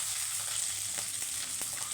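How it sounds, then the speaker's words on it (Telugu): Garlic and shallots frying in a pan, giving a faint, steady sizzle with a few soft scraping stirs. "ఇట్లా వేయించుకోవాలండి, మాడకుండా"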